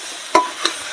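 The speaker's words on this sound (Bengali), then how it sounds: "কাঁচা লঙ্কাটা দিয়ে এবার এই যে ভালো করে নেড়ে এটাকে পুরো ভাজা ভাজা করব" Green chilies and ash gourd are stir-fried in a pan for a dish made with rohu fish head, with a soft sizzle under two quick scraping stirs of a spatula close by.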